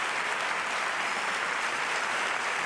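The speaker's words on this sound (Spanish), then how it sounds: "Una salva de aplausos esta bastante larga" A large crowd gathered for the Seville Holy Week proclamation address in 2007 keeps up a long, even wash of applause, steady and fairly distant, with no voices over it.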